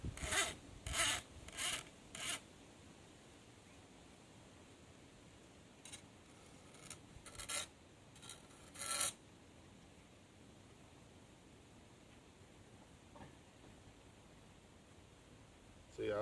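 A cane knife being sharpened, short clusters of rasping strokes in two bursts separated by long quiet stretches, fairly faint overall.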